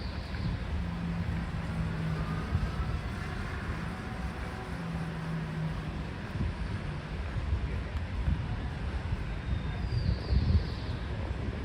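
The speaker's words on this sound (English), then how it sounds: "It's a bit on the cloudy side and a little windy today." Steady wind noise outdoors in downtown San Francisco on a cloudy spring evening, a broad continuous rush buffeting the microphone throughout with no clear voices.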